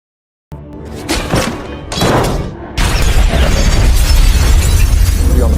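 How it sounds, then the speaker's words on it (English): Film explosion with loud booming blasts and shattering debris, a couple of heavy bursts followed by a sustained roaring rumble, close and dominant with no talk. "an explosion occurs"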